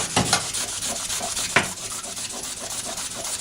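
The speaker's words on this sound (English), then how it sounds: "Takes some pretty heavy scrubbing" Heavy back-and-forth scrubbing on a very dirty game console section cleaned with naphtha, a steady close rasping rub with a couple of sharper strokes standing out.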